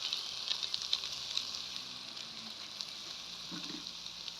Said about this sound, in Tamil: சேர்த்து எல்லாம் வந்து நல்லா வதக்கி விடுங்க